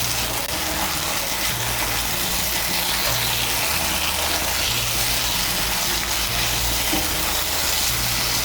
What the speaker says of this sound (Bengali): মশলার সঙ্গে আলুটাকে আরেকটু কষিয়ে নেব